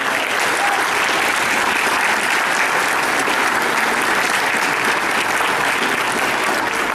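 A convention crowd applauds a cosplayer dressed as Stephanie Brown Batgirl at Origins 2015: steady, dense, loud applause that carries on evenly throughout with no talk over it.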